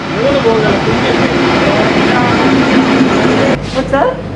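A loud train in rural Australia rumbles steadily past up close, with a dense roar that cuts off abruptly near the end, followed by faint voices.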